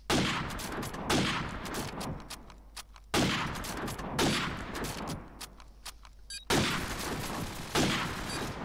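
Rapid bursts of automatic gunfire from Call of Duty 4 in a CyberCup tournament match, loud and dense, arriving in three sustained volleys separated by brief pauses, with no voices heard.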